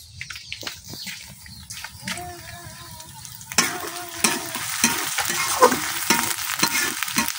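Onions frying in a pan with garam masala, three bay leaves, cinnamon and cardamom, a crackling sizzle that swells louder partway through, with scraping stirs and spoon knocks close by in a village kitchen.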